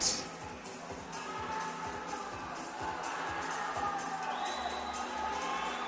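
A crowd cheers and shouts continuously at a national swimming championship final relay in South Africa, a busy mix of whoops and children's voices carrying on steadily through the whole stretch at moderate distance.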